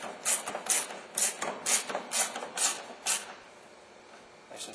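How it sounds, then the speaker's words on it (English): A socket wrench ratchets in quick, clicking bursts as 10mm bolts are driven back into a Dodge Durango light assembly, a close, quiet series of short rattling runs separated by brief pauses. "we can go ahead and reinstall our 10mm bolts"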